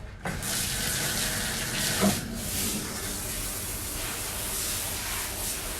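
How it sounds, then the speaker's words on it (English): Running tap water rinses shampoo off a Bichon dog during grooming, a steady close gush and splash that starts abruptly and flows continuously with slight shifts as the stream moves. "So, all right, he's all shampooed. We're going to rinse him off."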